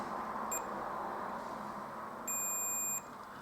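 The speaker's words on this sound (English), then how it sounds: "I'll put it on the beeper." Multimeter continuity beeper sounding as its probe pins connect during a check on a DSO138 oscilloscope kit: a brief high beep, then a longer steady tone lasting under a second, close and clear over low background hiss.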